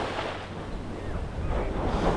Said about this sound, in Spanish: El mar está impresionante.